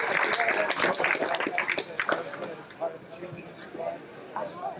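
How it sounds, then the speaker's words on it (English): Audience at a summer soiree auction event giving a round of applause, dense clapping loud at first then thinning and fading, with voices murmuring throughout. "Give him a round of applause."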